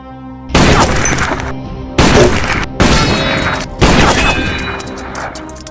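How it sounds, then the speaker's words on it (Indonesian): Sniper rifle shots in a Western action film, a marksman hitting every target: three loud, sharp bursts spaced about a second apart, each with a crashing decay, over a faint background. "Zarin lalu menembak seluruh target secara tepat sasaran"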